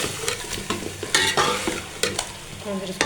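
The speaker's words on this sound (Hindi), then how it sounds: "थोड़ी देर इसको फ्राई करते हैं" Chicken meat fries in a pot for pulao while a spoon scrapes and knocks against the metal, so loud stirring bursts land over a constant sizzle.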